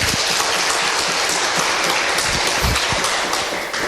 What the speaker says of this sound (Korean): 여기까지 이해되신 분들만 박수 한번 쳐볼게요